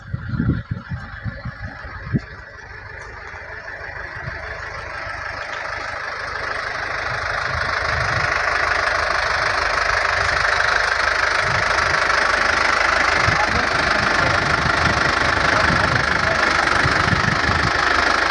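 A heavy tractor engine runs continuously and grows louder as it revs up, a steady rough drone with knocking undertones, close by with no talking.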